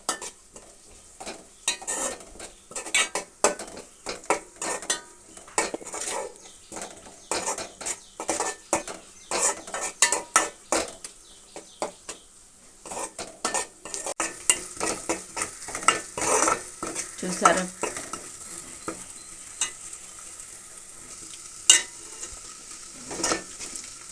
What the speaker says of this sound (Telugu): ఉల్లిపాయ పచ్చిమిరపకాయ అల్లం వెల్లుల్లి పేస్ట్ ఏ విధంగా వేగిందో